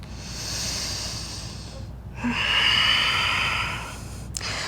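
Slow, audible breaths during a yoga flow: a long soft exhale, then a fuller hissing breath, close and alone in a quiet room.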